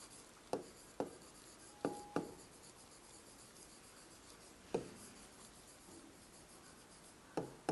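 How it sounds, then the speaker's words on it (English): Handwriting by hand on paper, writing out decimal expanded form: quiet, close scratching strokes with several sharp taps of the pen at irregular intervals, no talking. "First, I am going to write in decimal expanded form."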